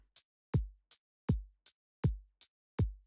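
The default patch of the Instant Acid synth in Reaktor plays a looping pattern: deep, booming kick-like thumps alternate with short, crisp, high clicks in a steady, even rhythm, clean and with no talking.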